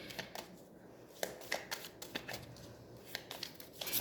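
Tarot cards are shuffled and drawn by hand in a quiet room, giving soft, papery riffles and snaps in irregular bursts, close and fairly faint, with no talking.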